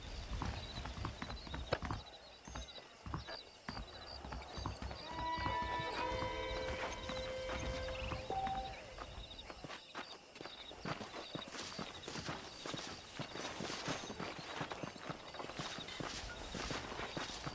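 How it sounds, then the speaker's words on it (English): Horse hooves clip-clopping in the video game Red Dead Redemption, with a steady walking rhythm throughout, a horse whinny partway through and continuous ambient background. "The horses are saddled up over here."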